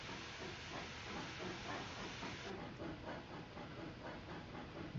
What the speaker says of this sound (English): where is that big freight train? I hear it nearby somewhere.